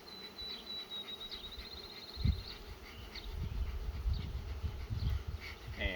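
Honeybees hum around an opened beehive while a smoker calms them, a faint steady buzz over low outdoor rumble with a few soft knocks.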